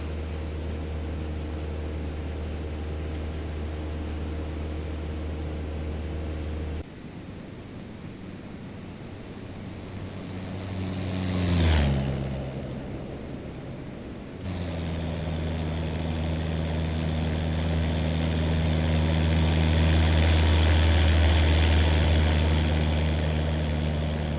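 The propeller engine of a Cessna 172 Skyhawk (SP) in a flight simulator drones steadily, with a brief sweeping whoosh midway, then the engine returns louder as the throttle is pushed back up.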